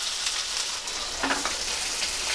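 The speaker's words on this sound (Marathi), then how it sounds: "जिरा आपल्याला चांगला कडकडून द्यायचं आहे।" Cumin seeds and finely chopped onion sizzle in hot oil for a dudhi bhaji, a steady close crackling hiss filling the whole stretch with a brief brighter flare near the middle.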